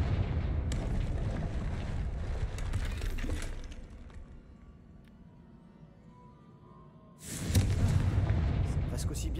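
A Confringo blasting spell going off in the video game Hogwarts Legacy: a loud booming explosion with rumbling debris, a quieter lull, then a second heavy burst of blast noise.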